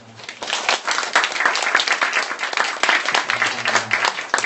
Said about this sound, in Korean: 1년 동안 수고하신 목자님들에게 우리 박수 한번